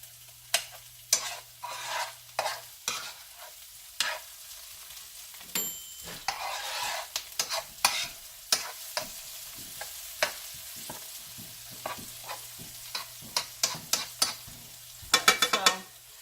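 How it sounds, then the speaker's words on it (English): Shallots sautéing in a pan make a soft, quiet sizzle broken by frequent clicks and taps of a utensil, with a faint steady hum underneath. "We're going to let that just saute for about a minute"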